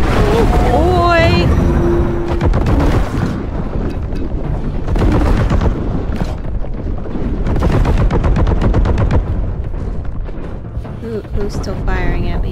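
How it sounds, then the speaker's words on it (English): Rapid bursts of heavy gunfire and booming blasts from the shooter game Warhammer 40,000: Boltgun, loud and close, with someone talking over the shooting in between. "Who's still firing at me?"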